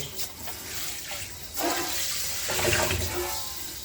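Steady rushing water sprays and splashes against a giant metal pot being washed, continuous and close, with clattering as the pot shifts.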